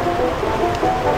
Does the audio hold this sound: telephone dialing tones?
no